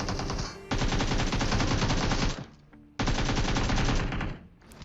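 AKM rifle gunfire in a video game: two long automatic bursts, loud and close, separated by a brief pause.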